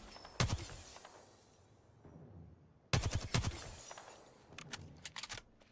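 Video game gunfire rattles in two automatic bursts, the second longer and followed by scattered shots, fairly loud and close with no voices over it.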